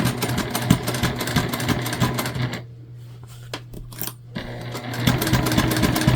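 A sewing machine stitches and backstitches a large tote bag, running in steady mechanical bursts up close, pausing briefly mid-seam before starting up again.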